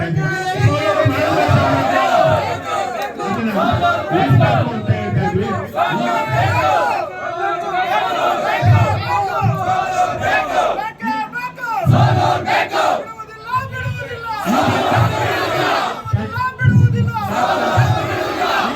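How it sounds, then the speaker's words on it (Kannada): A large crowd at a lawyers' association protest shouts praise slogans together in loud, rhythmic bursts, many voices rising and falling in unison with brief pauses between chants. "ಎಲ್ಲರೂ ಕೂಡ ಒಬ್ಬಟ್ಟಿಂದ ನೀವು ಜೈಕಾರ ಹಾಕ್ಬೇಕು"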